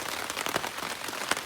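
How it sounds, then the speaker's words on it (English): Heavy rain pours on a tarp at a woodland camp during a windy night on a backpacking trail, a dense, steady patter with scattered louder drops, close and unbroken, with no talking. "It is pouring and it is windy."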